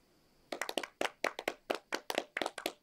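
A single person claps about a dozen times, sharp and close, in a slightly uneven rhythm after a brief quiet start.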